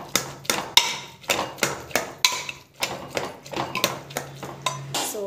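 A spoon clinks and scrapes against a pan while coconut cabbage curry is stirred, giving repeated sharp metallic taps in a steady, uneven rhythm, close and moderately loud with no talking.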